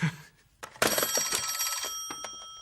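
An old-style telephone bell rings in loud, rapid bursts, starting after a brief soft sound and continuing as a harsh metallic trill with sustained overtones, close and clear with no voices.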